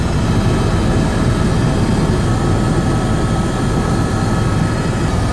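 Loud, steady helicopter engine and rotor roar in flight over the Grand Canyon, heard from inside the cabin as a continuous dense drone with no talk.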